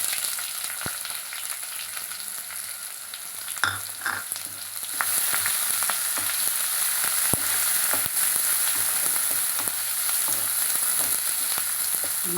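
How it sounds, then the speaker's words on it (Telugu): Onion pieces with green chillies fry in a pan of tempering, a steady close sizzle that grows louder midway, with occasional scrapes and clicks from stirring and no talking. "ఉల్లిపాయ ముక్కలు కూడా వేసుకుంటుంది కప్పుడు."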